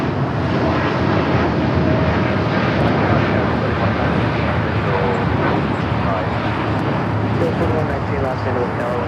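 Jet aircraft at Los Angeles LAX airport, a steady broad engine roar lasting throughout, with radio voices talking over it.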